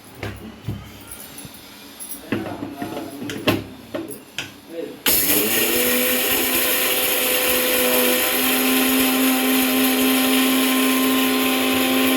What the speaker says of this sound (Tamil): இப்போ மிக்சியில் போட்டு அரைச்சிடலாம்